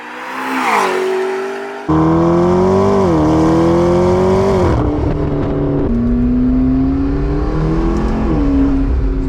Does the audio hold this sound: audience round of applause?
no